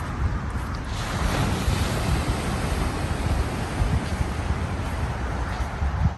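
Ocean waves wash onto a beach in the dark before sunrise, a steady, close, dense surf roar with wind buffeting the microphone and no voices.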